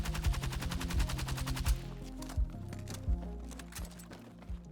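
L85 rifle fire in the Battlefield 6 video game comes as a rapid automatic burst of evenly spaced shots, then breaks into a few separate single shots, loud and close.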